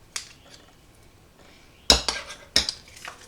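Tomato puree is stirred into pizza sauce, with a few sharp spoon clanks against a pot or bowl and softer scraping between them, close and otherwise quiet.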